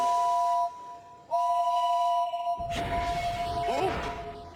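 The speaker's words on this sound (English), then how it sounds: "James blew his whistle." A steam locomotive whistle from the Thomas the Tank Engine animated series gives two long, steady, clear blasts with a short gap between them, then breaks into a loud whooshing rush of steam and noise.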